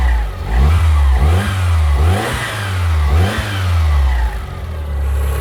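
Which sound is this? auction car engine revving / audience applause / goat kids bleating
auction car engine revving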